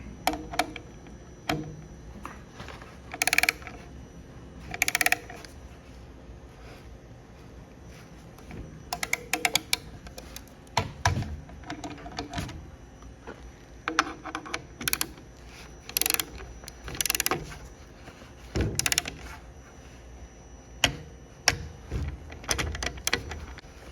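Torque wrench tightening exhaust fasteners on a Honda CB650R motorcycle fitted with an Akrapovic exhaust, heard as repeated ratcheting clicks and sharp metallic clacks in irregular bursts across the clip, close and clear with no talking.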